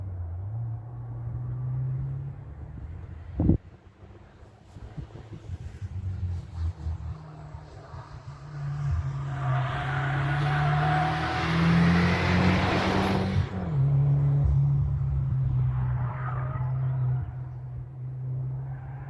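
An Audi TT driving fast on the Curborough sprint track, a loud engine drone that builds as it accelerates and then holds a strong roar close by, with no talk.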